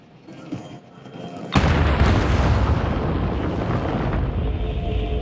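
An explosive charge goes off in a shooter video game: a faint lead-in gives way to a sudden loud boom that rolls on as a sustained, heavy rumble.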